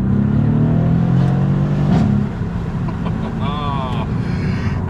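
A Mercedes C63S tuned to 600 horsepower revs and accelerates, its engine note rising in pitch across a steady roar. Someone talks over it throughout.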